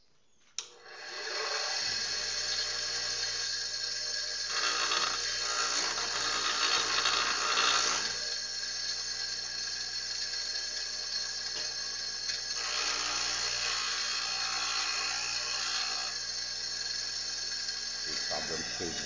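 A badly damaged, partly broken wood chisel is sharpened on a powered grinder or sharpening machine, giving a loud steady whine and hiss that runs almost without a break from near the start, with slight swells in intensity.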